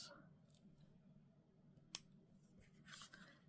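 A single sharp snip of scissors cuts paper in a quiet room during greeting card making, followed by faint rustling as paper is handled.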